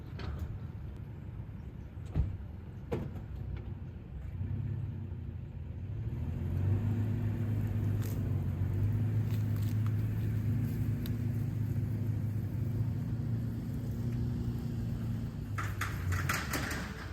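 A Toyota Tacoma pickup idles, then its engine rises into a steady low drone while driving, heard from inside or close by, with a few sharp knocks and clunks of doors or gear early on and no talking.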